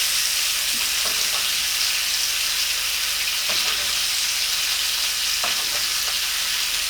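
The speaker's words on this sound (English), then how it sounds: "Make sure you baste around that bone and help it cook around the bone." A blackened, herbed bone-in rib steak sizzles loudly in butter and olive oil with onion and garlic, a dense continuous frying hiss broken by a few soft scrapes and splashes as it is basted.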